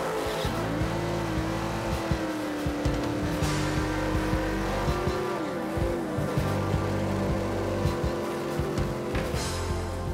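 Drag racing cars at Cordova Dragway Park in Northern Illinois, an IHRA national event, roar continuously with a high engine whine that rises and falls over a low rumble and bursts of tire noise.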